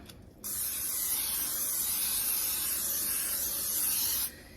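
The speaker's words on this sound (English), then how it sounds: "we're going to spray our baking casserole" A steady aerosol spray of cooking oil onto a casserole baking dish hisses for about four seconds, close and continuous, then cuts off abruptly.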